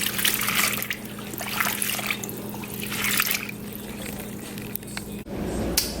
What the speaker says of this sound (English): I triple wash my greens, triple wash in hot water